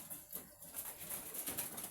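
Pigeons in a modern pigeon farm with rows of nesting boxes give soft, low cooing, faint and brief against a quiet background.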